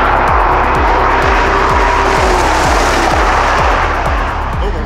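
A loud, close engine roar from a speed race between a 510 hp Range Rover, a 400 hp Toyota Supra and a 500 hp VAZ 2107, running continuously with a rhythmic low pulsing and no break.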